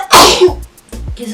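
A single loud, sharp human sneeze, close and sudden, followed by a brief short vocal sound.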